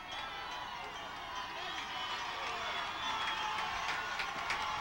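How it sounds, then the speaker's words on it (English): A crowd cheers at a high school football game, a steady wash of voices and whoops in the stands that stays fairly even, with some swells and scattered shouts and claps throughout. "Crowd getting into it right now."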